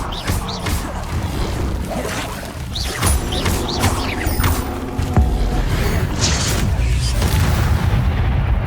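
A spell cast as Expelliarmus in Hogwarts Legacy on PC, heard as a run of heavy booming magical blasts and crashes layered over busy combat noise, loud and continuous with no talking.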